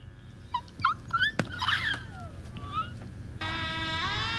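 A dog whimpers with several short high yips and whines, some rising and falling, fairly close, followed by a steady tonal whine near the end.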